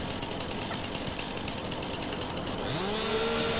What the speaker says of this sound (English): Alright, so let's get the chainsaw out.